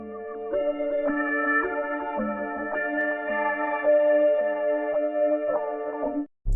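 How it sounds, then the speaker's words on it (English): Synth pad from Analog Lab, dry with no effects, holds sustained layered chords with bright harmonics that shift every second or so, steady and loud throughout before cutting off abruptly near the end. "Next, I added this pad sound from Analog Lab"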